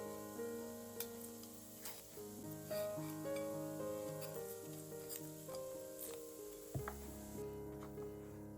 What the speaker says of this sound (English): While the onion is frying, let's prepare some garlic.